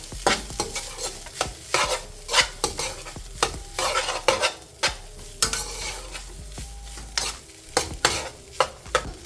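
Food in a frying pan being stirred with a generous amount of black pepper, heard as a steady sizzle broken by frequent sharp utensil scrapes and taps against the pan, close and irregular in rhythm.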